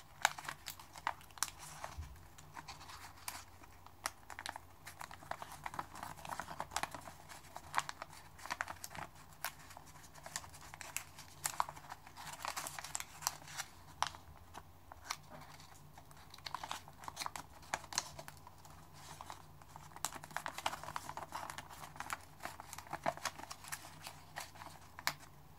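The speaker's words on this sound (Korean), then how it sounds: "세 곳도 똑같이 펼쳐서 눌러 접어줍니다." Quiet, close crinkles and soft creases of paper being unfolded, pressed flat and folded into a box, in a steady run of small rustles and taps with no talk.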